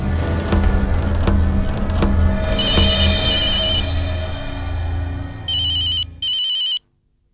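A telephone ringtone rings in a Hindi TV drama scene. Bright electronic tones sound loud and close, ending in two short bursts over a music bed before the sound cuts off abruptly.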